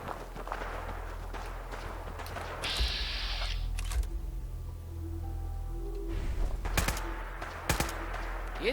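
A few scattered gunshots ring out in Fallout 4 amid a low ambient rumble, each a sharp, isolated burst spaced seconds apart, fairly quiet overall.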